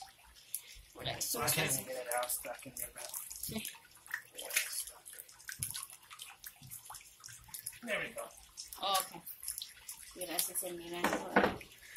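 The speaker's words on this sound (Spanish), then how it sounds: "Aquí sale el agua para afuera" Water pours and splashes from a vintage concrete rock fountain, a steady running flow heard close under near-constant talk by several people.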